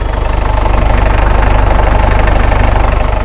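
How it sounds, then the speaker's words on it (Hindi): A 1984 Jeep CJ3B diesel engine idles steadily at the exhaust, a loud, close, rhythmic low thrum with a faint knocking pulse and no talk over it. "This is the exhaust note."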